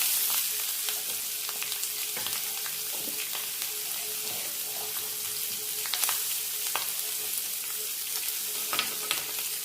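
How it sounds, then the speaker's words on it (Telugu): Bitter gourd sizzles in hot oil with curry leaves and onion, a steady close crackle and hiss that runs throughout with scattered pops and light stirring scrapes, no voices. "ఇవి బాగా ఎర్రగా వేగనిద్దాము"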